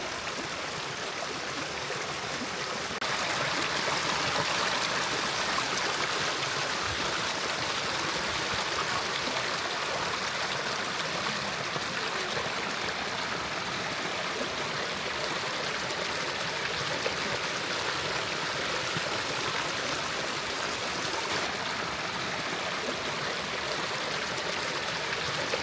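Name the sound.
stream of water flowing in Hakgala Botanical Gardens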